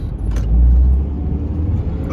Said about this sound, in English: that car's just gone